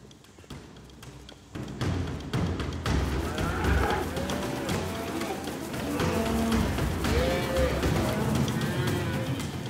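A cattle herd in the Australian bush moos and shifts about as dingoes hunt a calf, with thudding movement and several overlapping lows, under someone narrating in French.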